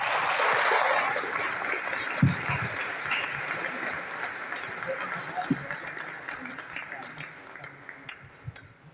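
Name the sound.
audience applause after a lecture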